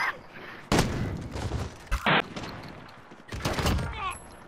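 Call of Duty: Modern Warfare gunfire comes in short bursts and single loud shots separated by quieter stretches, with a brief sustained burst in the middle, while a player talks over it.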